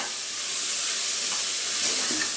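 Onions and tomatoes sautéing in oil for prawn biryani, a steady loud sizzle and hiss close by, with no talking.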